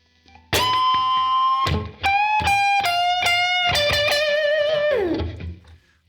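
A distorted electric guitar plays a short slow-blues lick, with sustained bent notes and a few quick picked phrases, loud and alone with no voices.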